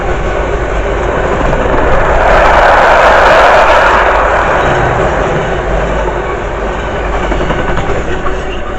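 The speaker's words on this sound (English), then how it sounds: "The very speedy 66 with a brilliant toot from the driver" A Class 66 Freightliner freight train running from Ditton to Felixstowe roars loudly through Harrow & Wealdstone station. The heavy rumble swells to a peak midway and stays strong as the wagons rush past close by.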